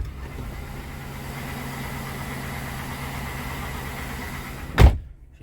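A Chevy Avalanche engine idles low and steady with a rough, uneven rumble just after a hard cold start, ending in a sharp loud thump like a door shutting.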